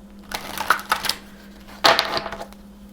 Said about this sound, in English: Let me shuffle this 3 times for you.